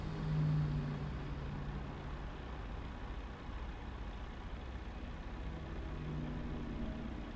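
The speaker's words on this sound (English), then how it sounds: "I keep accelerating with my handbrake on." Car engine held at steady revs while accelerating against the engaged handbrake, a continuous low drone that swells briefly at the start, then stays level and moderately loud with no talk.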